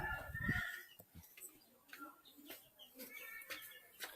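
Chickens brought along for a forest trip cluck and crow faintly nearby, with a brief louder call at the start followed by scattered soft clucks and small knocks in a quiet setting.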